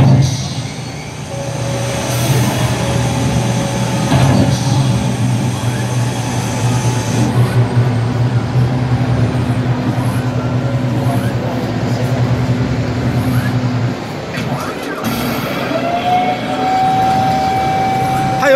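An Armored Trooper VOTOMS mech is driven in a video game, a loud, steady mechanical rumble with a low drone, grinding movement noise and a shift partway through, ending on a rising whine.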